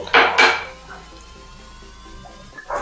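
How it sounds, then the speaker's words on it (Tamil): Peas and mixed vegetables going into a pot for kurma. Two quick, close clattering knocks at the start, a quiet stretch, then another soft clink at the end. "எல்லா காயும் போட்டு பட்டாணி இதிலே போடுறேன் பாருங்க"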